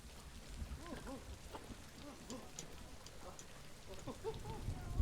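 Rain falling steadily in the Planet Zoo video game, a constant soft wash with faint distant rumbles, heard under a person talking throughout.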